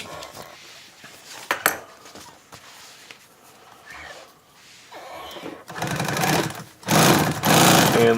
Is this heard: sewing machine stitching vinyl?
yes